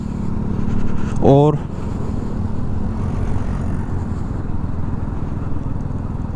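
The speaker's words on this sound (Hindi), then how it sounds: "सिक्स्थ गियर में फ़िलहाल ये मोटरसाइकिल 2700 RPM के आसपास चल रही है" Bajaj Pulsar NS200 motorcycle cruising in sixth gear at around 2700 RPM, a steady low engine drone running continuously under a brief spoken phrase.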